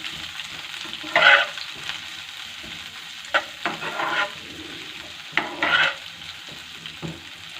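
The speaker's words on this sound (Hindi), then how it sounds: "इसके अंदर मैंने बंद गोभी थोड़ी सी ली है, इसको मैं हल्का सा फ्राई कर लूँगी।" Shredded cabbage sizzles softly in a pan with tempered cumin for vegetable noodles. A steady low crackle runs underneath, with occasional louder scrapes and clinks from stirring. No voices.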